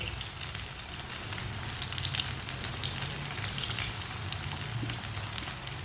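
Carrot kebabs fry in a pan with a steady, close sizzle and crackle that stays even throughout, with no talking over it.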